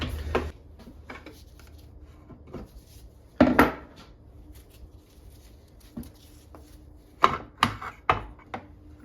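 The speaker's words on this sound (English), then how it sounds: "some of these bolts aren't even tight. I don't know if you guys can hear that." Metallic clinks and rattles of loose bolts being removed from a Tremec TR6060 gearbox with a no-third-gear fault, scattered knocks and taps over a low background hum, with a cluster of clanks near the end.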